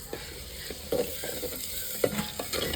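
Water poured into a hot tempering for village-style khichdi in a clay pot on a wood-fired stove sizzles softly as it is stirred, with a few sharper scraping stirs over a quiet, steady frying hiss.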